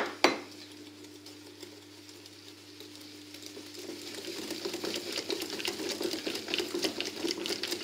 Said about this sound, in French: On mélange bien comme il faut.